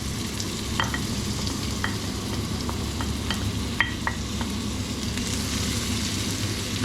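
Nigella seeds, Kashmiri chilli, bay leaves, garlic and a cinnamon stick sizzle steadily in a pan over medium heat, with a dense continuous crackle and a few sharp clicks of a utensil stirring.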